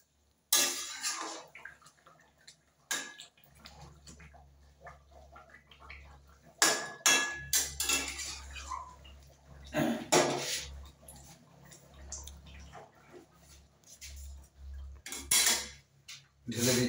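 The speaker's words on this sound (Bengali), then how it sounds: "এবার দিয়ে দিচ্ছি একটু গরম মশলা। একটু জাস্ট নেড়ে নেবো।" A spoon clanks and scrapes against a pan while chicken chaap is stirred with garam masala, giving several sharp metallic knocks in irregular bursts over a low background hum.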